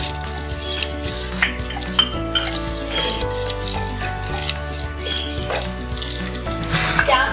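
Onions frying in oil for a chicken biryani masala: a close, continuous sizzle with repeated spatula scrapes and clinks against the pot, steady throughout and without speech.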